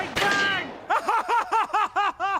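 Gunfire from the Kitchen Gun comedy sketch, a household cleaning gun: a loud opening blast with ringing decay, followed by a rapid run of about eight sharp, evenly spaced shots, close and loud.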